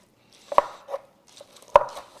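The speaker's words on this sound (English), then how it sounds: "I like to just chop it" A knife chops tender braised pork shoulder on a board, two sharp loud strikes a little over a second apart with softer scraping and tapping between them, close and with no talk.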